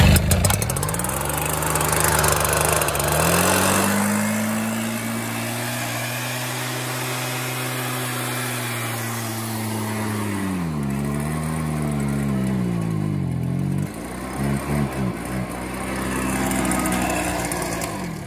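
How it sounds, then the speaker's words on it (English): Stihl backpack blower with its small engine revving up to a steady high roar, then easing and surging again near the end, loud and close with no talk. "It's a good blower."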